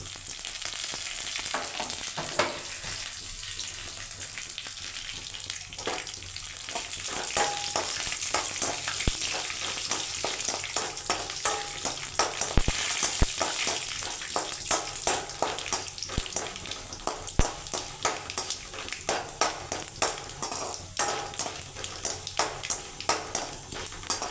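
Dried red chillies and curry leaves fry in hot oil for lemon rice, giving a steady, dense sizzle with occasional crackles and light stirring, close and continuous.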